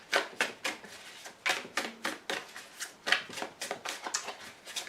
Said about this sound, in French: Et encore une carte de retournée.